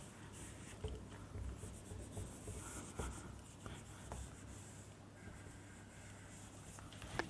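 Someone writes on a board during a chemistry lesson on the periodic table, and steady scratchy strokes run softly and continuously throughout with a few sharper taps.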